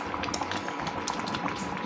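A pot of leafy curry bubbles at a rolling boil, a close, continuous burble of popping bubbles with no voices over it.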